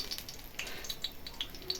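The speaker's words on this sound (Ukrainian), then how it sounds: "Хай смажиться." Small dough pastries frying in oil in an uncovered pan over low heat on a home kitchen stove, giving a faint, steady sizzle with scattered light pops and crackles for a couple of seconds, no voices.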